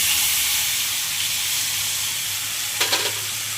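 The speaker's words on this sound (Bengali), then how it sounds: "এবার সেই তেঁতুলের তেঁতুল জলটা আমি এর মধ্যে দিয়ে দেবো" Tamarind water hits a hot tempering in a pan for a sour fish dish, producing a loud, steady hissing sizzle throughout, close to the mic, with a couple of quick stirring scrapes near the end and no talk.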